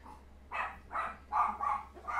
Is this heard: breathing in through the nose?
no